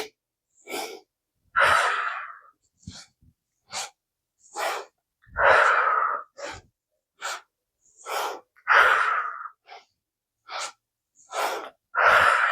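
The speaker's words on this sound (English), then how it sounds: "it's 3 inhales and a big exhale" Yoga breathing exercise: a series of short, sharp nasal inhales and strong exhales repeat in bursts with quiet gaps, close and fairly loud, with no talking.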